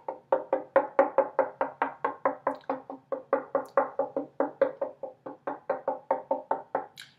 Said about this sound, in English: You can simply knock around the edges.